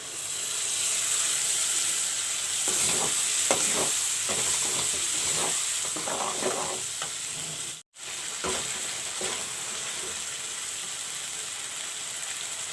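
Ginger, garlic and onion paste fries in a pan for a chicken curry, giving a steady loud sizzle throughout with bursts of scraping and stirring clatter, and a brief break partway.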